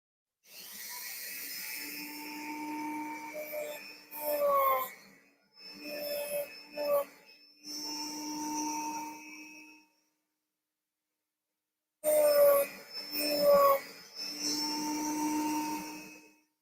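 A sanding drum on a rotary tool whines in several sustained runs with brief stops, a thin high-pitched buzz with scraping tones as it works the wood, then a long pause before it resumes.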